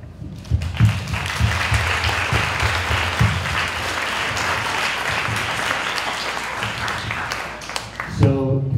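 Students applaud steadily at a Student Government Day event, a dense run of clapping that carries the whole stretch, with a few voices breaking through near the end.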